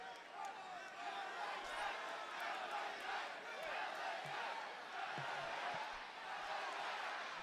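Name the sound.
wrestling arena crowd rallying behind LA Knight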